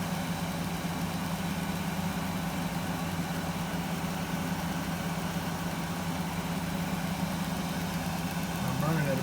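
A metal lathe fitted with a homemade steady rest runs steadily at about 1,000 RPM, giving a continuous droning hum with a low rumble throughout and a slight swell at the very end.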